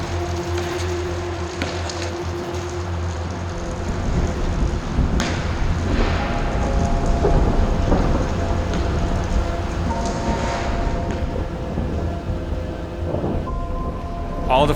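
Rain falls on a Toronto city street at night during a photo shoot with photographers and models, a steady loud hiss and patter with a low rumbling undertone throughout.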